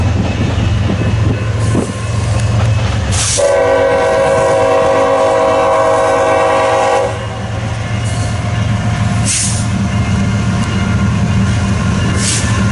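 A northbound freight train rumbles past up close near Fremont and Ashland, Nebraska, a long horn blast sounding for several seconds over the steady roar of rolling railcars.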